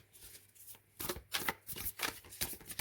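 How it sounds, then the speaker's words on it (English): Moonchild Tarot cards, sturdier than normal cards, being shuffled by hand in a series of close riffling bursts separated by short pauses, with no talking. "Let's see how they shuffle. They shuffle beautifully."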